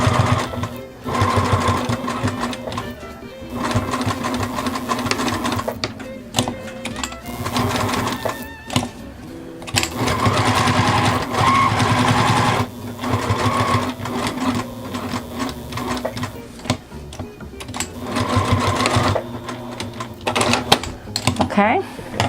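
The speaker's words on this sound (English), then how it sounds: "sew this down a little bit better right here" A sewing machine stitches red Velcro trim onto a small doll sweater made from a wine bottle wrap, running in loud, close bursts of rapid mechanical whirring separated by brief pauses, with a person talking at times.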